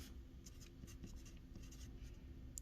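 Writing down notes during a chemistry lesson: quiet, brief scratchy pen strokes in short bursts over faint background hum, close by, with no talking.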